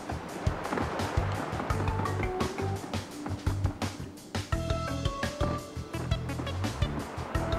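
Flood water sloshes and splashes in Paper Mario: The Origami King, with busy watery churning, clicks and short tonal game chimes layered throughout.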